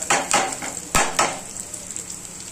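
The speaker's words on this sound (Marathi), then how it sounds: "आता आलू फ्राय होताना" Potatoes and peanuts frying in a pan with a soft background sizzle, punctuated by a few close metallic scrapes and clinks of a utensil stirring against the pan.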